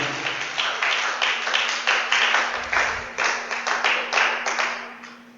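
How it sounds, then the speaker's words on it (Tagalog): Church congregation clapping in a sparse, rhythmic pattern, a modest number of hands striking in rough unison, each burst distinct and fairly close, with a steady low hum beneath. "Parang mahina palakpak."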